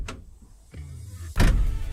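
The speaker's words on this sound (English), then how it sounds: "Just listen to the doors close here." Doors on a restored Star 28 truck, an old Polish model, shut nearby: a soft mechanical movement, then a solid thud that leaves a short rumbling tail.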